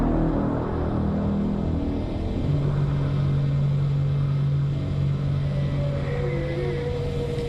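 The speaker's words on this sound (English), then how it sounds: "then there was what we now understand to be the priming of the sonar weapon" A low, steady engine-like hum from a sonar weapon priming, with a rising tone and faint whale-like whistles sliding in near the end, continuous and moderately loud with no talking.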